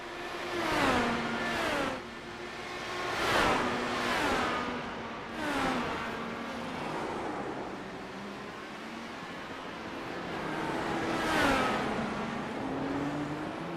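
Race cars lapping at the Grand Prix of Long Beach street circuit, engines rising and falling in a series of revving pass-bys with shifting pitch, several cars in succession, fairly loud and close.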